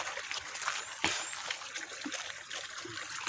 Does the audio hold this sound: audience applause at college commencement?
no